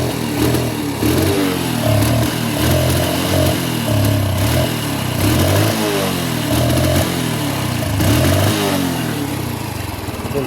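A Honda Wave motorcycle engine runs loud and close at high revs, misfiring, sputtering and popping in an uneven, choppy rhythm throughout.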